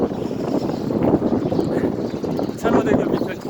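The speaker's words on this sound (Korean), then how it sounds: "다리 밑이라서 바람이 세차게 붑니다." Strong wind gusts under Cheonho Bridge on a riverside marathon running route, roaring steadily and loudly across the microphone, with a brief surge near the end.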